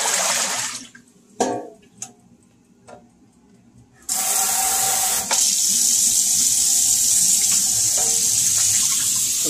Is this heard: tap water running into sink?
yes